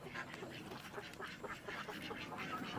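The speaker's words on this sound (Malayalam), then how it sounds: "കുറച്ച് താറാവ് വിരിഞ്ഞിക്കണ ചെറിയ താറാവുകൾ" Ducks quack on a small duck farm where young ducklings have hatched. The calls come as scattered, overlapping quacks over a steady rustling farmyard background, moderately loud and fairly close.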